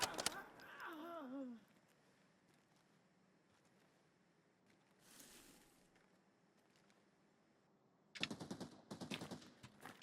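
Gunfire in the video game Arena Breakout Infinite: a burst of shots at the start, a muffled distant shot midway, then a loud rapid volley near the end, with a quiet stretch between.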